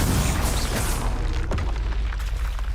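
A spell cast in the Hogwarts Legacy video game: a loud, broad magical burst with a booming low end at the start, fading into a dense crackling wash with a sharp crack midway, all continuous and close.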